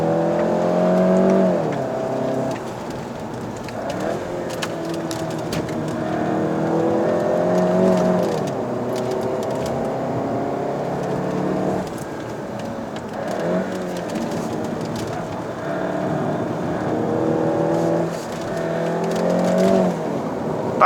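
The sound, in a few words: VW Golf GTI MK7.5 engine revving while driving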